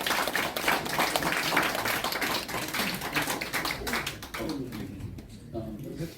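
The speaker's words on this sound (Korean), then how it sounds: "여러분 뜨거운 박수 부탁합니다." Applause from a crowd at a political party merger press conference: dense, broadband patter that holds steady for several seconds, then thins out toward the end.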